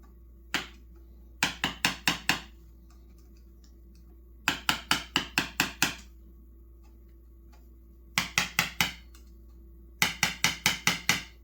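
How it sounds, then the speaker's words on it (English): On the cases of a 1976 Husqvarna 400 motorcycle engine, a tool taps down metal locking tabs in quick bursts of four to six sharp metallic clicks, with pauses between the groups and quiet surroundings. "We're going to just try to fold these tabs lightly down enough to get a socket on it."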